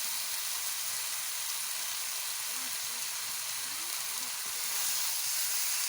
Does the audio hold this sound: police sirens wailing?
no